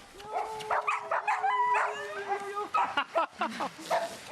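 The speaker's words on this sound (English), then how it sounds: "Andrei's dogs are Siberian Huskies." Siberian Huskies bark and yip close by in short, excited bursts, with whiny, high-pitched calls running through the series.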